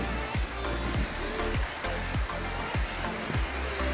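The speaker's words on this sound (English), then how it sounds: "It is really windy today." Strong gusting wind buffets a hotel balcony overlooking the ocean and a golf course, roaring steadily with repeated low thumps as gusts hit the microphone, with no voices.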